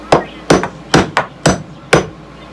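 A hammer taps a screw out of old chain plates, six sharp metallic blows in an uneven rhythm, close and loud with short gaps between strikes.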